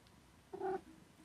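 A single short, faint meow from a cat, rising briefly out of quiet room hiss.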